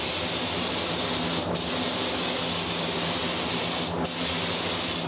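Paint spray gun hissing in a steady, loud, continuous blast while a David Brown tractor is painted, with two brief pauses as the trigger is released.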